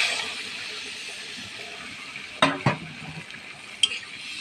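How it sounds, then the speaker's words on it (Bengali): A spiced potato curry fries in a pan with a steady, close sizzle, then water is poured in, causing two sharp bursts of louder hissing, with a brief clink of a utensil near the end. "এবার দিয়ে দিচ্ছি জল।"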